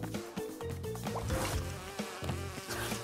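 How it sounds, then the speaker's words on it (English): A bee buzzes in the video game Crash Bandicoot 2, a wavering insect drone that rises and falls over game music with rhythmic thumps, and no voices are heard. "get away from me, you stupid annoying bee"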